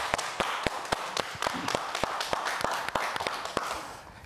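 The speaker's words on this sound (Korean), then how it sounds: "박수 부탁드리겠습니다." An audience at a Korean hospital health lecture claps in a steady, evenly spaced rhythm, each clap crisp and distinct over a soft room hum.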